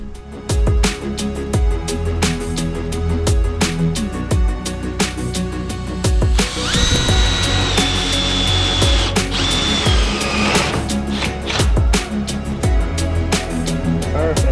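A power drill bores a hole in an oil tank top part, with repeated short whirring bursts and clicks, then a longer high-pitched grinding run in the middle, loud and close, with no talking.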